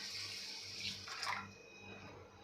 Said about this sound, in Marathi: 3 कप इथे पाणी घालायचं आहे.